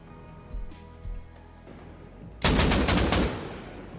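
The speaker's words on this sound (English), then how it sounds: "They tried to go deep and he's got a shotgun trap." A shotgun trap fires inside a base in the console version of Rust during a raid, a loud burst of several rapid blasts after a couple of quieter thuds, with no talking.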